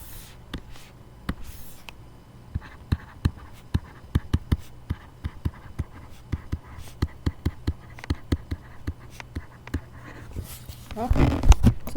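Pen strokes writing out a solution by hand on paper, a steady run of short sharp taps and scratches with brief pauses, close and fairly quiet, ending in a louder rustle.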